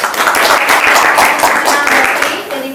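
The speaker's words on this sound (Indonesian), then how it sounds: "tepuk tangan dulu kelompok" A short burst of group clapping in a classroom after a group presentation, brisk and close, fading slightly at the end.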